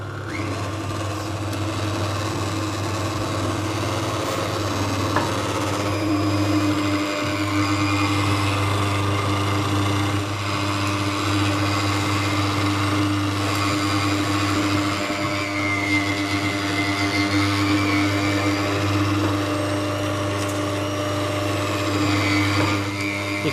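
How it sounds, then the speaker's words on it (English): A strong electric sausage mixer with a small hopper pushes meat and fat through in a steady, loud motor drone that holds evenly from start to finish. "This is a smaller hopper, so it's a little bit slower to get your meat through it. It's a strong mixer."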